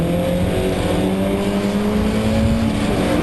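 A Porsche 924 race car engine, heard onboard during a BRSCC race at Croft in 2012, drones loud and steady with a constant harmonic whine, holding high revs throughout with no talk.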